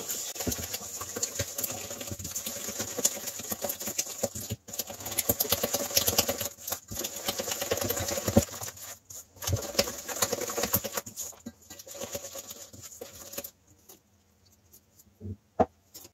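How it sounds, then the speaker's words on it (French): Eggs and sugar being mixed together in a bowl, a run of quick, uneven tapping and clicking strokes that carries on for many seconds, then thins to a few scattered taps, with no talking. "Et là, on va mélanger les œufs et le sucre."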